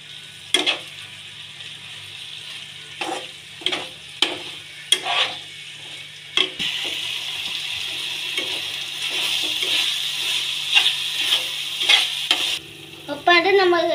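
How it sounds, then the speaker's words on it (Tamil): Tomato sauce mixed into vegetables in a pan, irregular scraping and tapping strokes of a spoon over a low sizzle that grows into a steadier hiss partway through, close by, with no talking. "டொமேட்டோ சாஸ் இப்போ மிக்ஸ் பண்ணிக்கலாம்."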